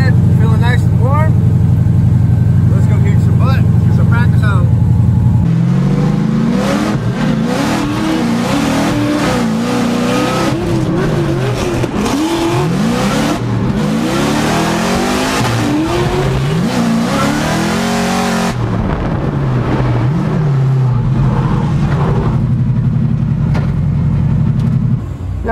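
A drift car at Formula Drift Long Beach revs hard on its first lap, loud engine rising and falling in rapid bursts after a steady idle, with someone talking over the engine throughout.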